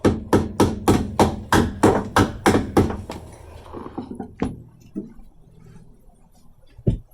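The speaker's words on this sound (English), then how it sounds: "Now we just need to knock the locking pin out, which stops the door from opening too far." Rapid metallic hammer strikes knocking out the door locking pin on a Toyota AE92 Corolla, about ten evenly spaced loud blows, then a few scattered lighter taps and a final knock after a pause.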